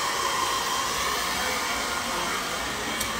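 A hair dryer blows continuously on short bob-cut hair in a salon, a loud, steady close whir with no talk.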